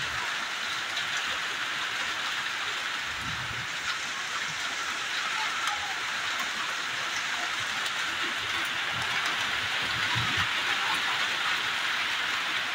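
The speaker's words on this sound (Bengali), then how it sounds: "হঠাৎ করে আসলো বৃষ্টি, কি ঝড় বৃষ্টি তুফান" Heavy rain from a sudden storm roars in a dense, constant hiss that fills the whole stretch without a break.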